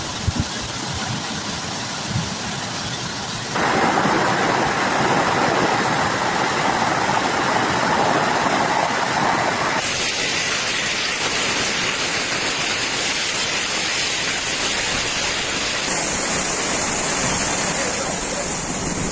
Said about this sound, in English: transformed familiar streets into torrents of rushing water.